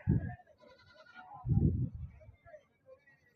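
Two loud goat bleats at a weekly market in Dubbaka, one at the start and one midway, each a short wavering cry, with quieter rustling and faint animal sounds between them.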